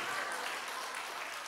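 A church congregation at a prayer-retreat revival service applauds steadily, a dense, even wash of clapping filling the whole moment with no break.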